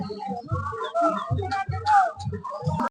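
Chickens and ducks at a village poultry market, with repeated short clucks and bird calls close by over busy crowd noise, and a voice briefly audible.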